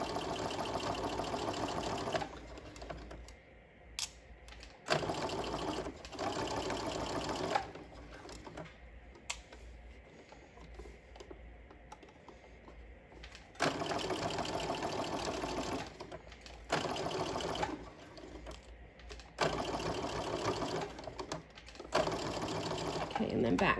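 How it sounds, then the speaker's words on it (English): A sewing machine stitches over fabric gathers in several runs of steady mechanical whirring, separated by quieter pauses in which a person talks. "we're going to stitch right over those gathers so that we're permanently setting them into the fabric"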